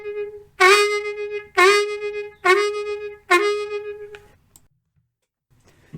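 Blues harmonica, a note played slightly bent and then quickly raised to its natural pitch, repeated four times in even, detached blows, close and clear, then silence.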